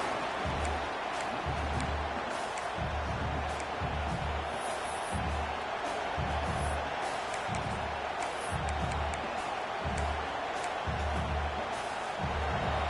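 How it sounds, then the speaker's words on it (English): A steady, dense roar of a large stadium crowd fills the whole stretch, with rhythmic low thumps pulsing underneath; loud and continuous. "Listen to the crowd energy here in the early going."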